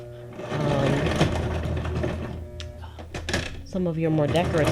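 A sewing machine stitching decorative stitches runs as a steady mechanical hum with a pause and restart, heard under continuous talking and a few light clicks.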